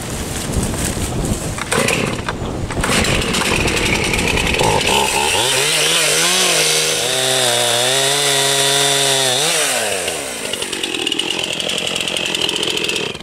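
A chainsaw roars loudly, its engine revving up and holding a high whine before dropping back to a rough, sputtering idle.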